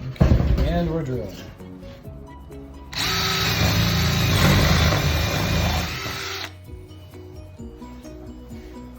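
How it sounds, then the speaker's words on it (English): A power drill bores a hole through a board lined up with a 2x4 during a board-up job, a steady loud whir of about three and a half seconds between stretches of nearby talk. "Okay, and we're drilling."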